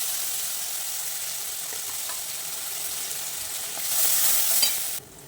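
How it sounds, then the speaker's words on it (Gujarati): Asafoetida dropped into hot oil with spluttered mustard seeds makes a continuous frying sizzle that swells louder toward the end, then drops off abruptly. "તેલ આપણું ગરમ થઈ ગયું છે હવે એમાં હિંગ ઉમેરી દઈએ"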